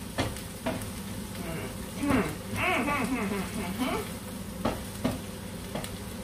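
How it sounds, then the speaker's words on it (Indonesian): Spiced meat simmering in a pot, with a steady bubbling and sizzling texture and a few louder stirring knocks and clatters, moderately close and fairly quiet throughout. "Ini dagingnya masih terus kita rebus ya."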